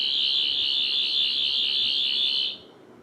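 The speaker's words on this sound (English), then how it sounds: "That was the sound of a sonic screwdriver from the British TV series Doctor Who." A Doctor Who sonic screwdriver sound effect plays as a phone ringtone: a steady, piercing high-pitched electronic whine that holds for about two and a half seconds and then cuts off, with no voices.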